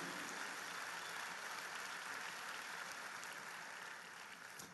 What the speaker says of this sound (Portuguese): Aplauda o Senhor Jesus, Ele é digno.